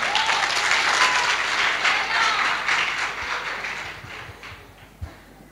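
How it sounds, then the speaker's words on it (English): Audience applause at a school TED-Ed club showcase event, full and lively at first, then gradually tapering off into scattered claps and a few knocks. "Please give a round of applause for Aya Ahengir."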